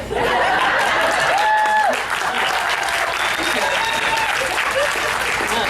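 An audience bursts into loud, sustained applause mixed with scattered laughter and cheering, filling the room and fading slightly near the end.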